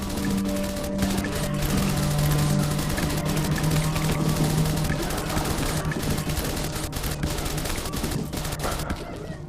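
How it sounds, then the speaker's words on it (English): Automatic machine guns rattling in They Are Billions, a dense, continuous fusillade of rapid shots holding loud and steady throughout with no pause, a low tonal hum running underneath. "Later, there were auto machine guns."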